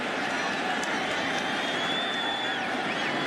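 A stadium crowd roars at a Giants vs Cowboys football game in Dallas. The noise is a continuous, loud wash of cheering voices with no breaks across the short stretch.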